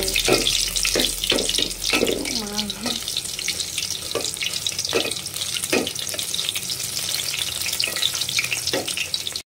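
Onions fry in a hot pan while being stirred, a steady sizzle broken by repeated scraping strokes of the spoon, close and fairly loud, with a brief murmur of voice partway through.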